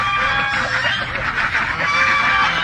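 A dense, continuous chorus of clucking and honking fowl, including black chickens, fills an organic farm in Paombong, Bulacan, loud and close throughout.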